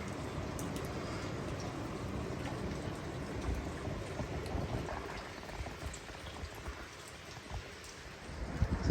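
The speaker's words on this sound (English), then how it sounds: "It's the morning after the night before, and it's raining." Steady rain falls in a small French town near Sword Beach on a wet morning, a dense, even patter and hiss continuing throughout at moderate level, with no voices.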